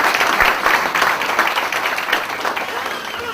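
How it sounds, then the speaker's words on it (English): An indoor audience at a talk claps to welcome a speaker, a dense, sustained round of applause from a large crowd that fills the room, loud and steady throughout, with a voice faintly under it. "I will request you all to give a big round of applause and welcome Mr. Aryaman Dalmia."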